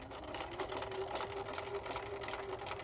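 A sewing machine putting in a short tag stitch on a garment: a steady, fast mechanical whirring and rattling that runs close and continuous the whole time, with no one speaking.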